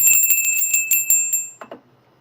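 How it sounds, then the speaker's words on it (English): A Super Chat notification bell on a livestream: a quick run of bright, ringing chimes, closely spaced and loud, fading out after about a second and a half with a couple of softer tones at the end. "That's a super chat bell."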